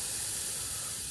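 Steady bright hiss of air pressure switched on in a pneumatic axle shifter for a two-speed axle, an even, close rush of air filling the whole moment without voices.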